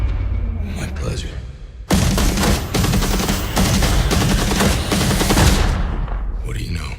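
Heavy gunfire erupts in an action scene from a Punisher film, a dense, loud barrage of rapid shots and bursts lasting several seconds, with booming impacts beneath and voices faintly audible at the edges.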